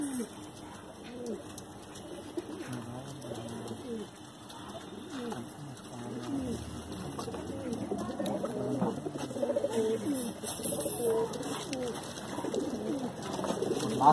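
Pigeons cooing repeatedly nearby, soft throaty coos overlapping one another, with a person talking intermittently underneath.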